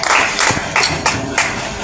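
An audience at an Urdu poetry mushaira breaks into loud applause, with bursts of clapping swelling and dipping in uneven waves across the moment, close and energetic.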